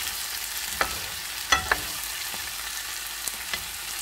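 Potato frying in a pan seasoned with garlic salt gives off a steady soft sizzle, broken by a few light clicks and taps from a utensil.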